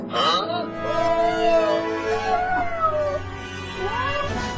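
A cat meows repeatedly nearby in a house, drawn-out wavering cries rising and falling one after another, fairly clear and close.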